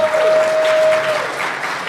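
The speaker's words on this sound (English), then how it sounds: "So please give them a warm round of applause." Loud, close applause from a conference audience for speakers at a security convention, with dense clapping that holds steady over two seconds while a brief tone sounds at the start.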